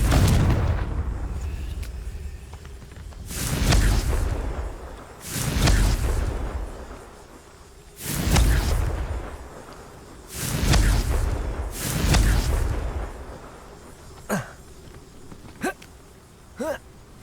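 Fiery Confringo spell blasts in Hogwarts Legacy, five loud booming bursts spaced a couple of seconds apart, followed by a few short sharp cracks near the end.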